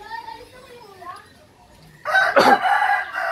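A rooster at a small home crows once, loud and close, after a quiet stretch with faint background noise.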